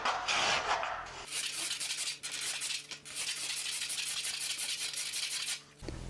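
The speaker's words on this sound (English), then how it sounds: "I'm just scraping on the upside of this curve perpendicular to those scratches" A hand scraper, sharpened like a crude card scraper, is pushed across a curved wooden casing surface, making a close, continuous rasping hiss with brief pauses between strokes.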